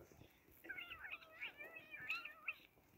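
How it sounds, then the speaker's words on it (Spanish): A cat gives a drawn-out, wavering meow, faint and fairly close, lasting a couple of seconds outdoors in a graffiti-painted village in Castellón, with soft background noise. "¡Un gato!"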